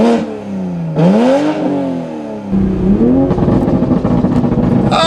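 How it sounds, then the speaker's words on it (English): A tuned Toyota Supra with an AFE downpipe revs hard twice, its exhaust rising and falling loudly up close, then holds a rough, crackling idle full of popping and burbling from the tailpipe. "Listen to how crazy this exhaust sounds."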